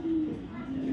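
A racer pigeon gives a low, close coo lasting under a second, a single rolling call.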